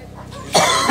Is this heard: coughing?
yes